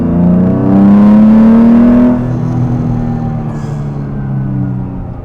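Restored Jaguar E-Type with its 3.8 straight-six engine accelerating hard, a loud, close, rising engine note that peaks and then eases off as the car pulls away, with no talk.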